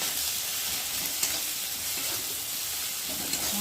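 Spice paste with salt and turmeric frying in a pan while being stirred, giving a steady, close sizzle and hiss throughout with faint scraping, no voices.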